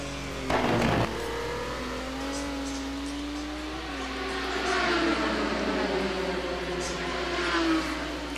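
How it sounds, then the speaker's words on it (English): Number 10 Hexus Racing Aston Martin GT1 race car in a racing game at Road America, engine whining and revving through upshifts under steady commentary, with a sharp thump early on. "driving the number 10 Hexus Racing Aston Martin"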